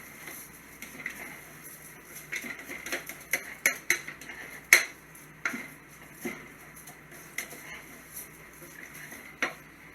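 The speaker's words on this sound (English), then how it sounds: "stir this every so often to make sure you toast all the rice." Rice is stirred in a pot to toast it for shrimp scampi, with scattered light scrapes and clinks of a utensil against metal coming in uneven bursts, fairly close, with no talk.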